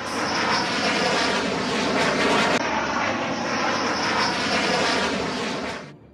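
A Rafale fighter jet's engine roars in a loud, steady broadband rush that holds for several seconds and then cuts off abruptly.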